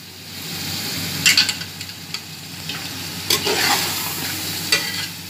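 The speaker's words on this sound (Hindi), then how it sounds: "ये टमाटर वगैरह डाल जाएंगे इसके अंदर, मसाला भुन जाएगा, टमाटर डाल जाएंगे।" Biryani masala with tomatoes frying in a pot, a continuous close sizzle broken by bursts of spoon scraping and stirring, several louder strokes standing out, no talk.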